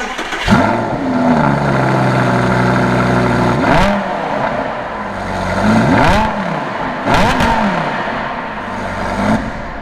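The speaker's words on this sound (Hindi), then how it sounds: "कैसा लगा आपको एग्जॉस्ट नोट," A loud Lamborghini Gallardo Spyder exhaust revs hard several times, each rise ending in a sharp bark, with a deep idle rumble in between.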